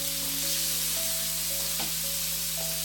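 Ground pork simmers and sizzles in a pan, a steady close crackling hiss with no talk, continuous and even throughout.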